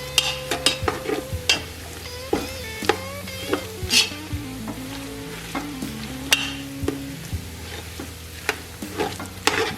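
Cream cheese melting in a hot pot for shrimp and scallop soup, stirred with repeated spoon scrapes and clinks over a loud continuous sizzle, close by.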